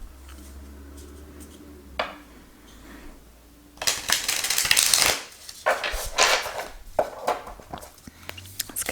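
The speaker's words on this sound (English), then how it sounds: "now I'm going to shuffle this deck so you can see how this deck shuffles." Oracle card deck being shuffled by hand, with a quiet start giving way to dense, close papery riffling and flicking bursts that continue in uneven clusters to the end.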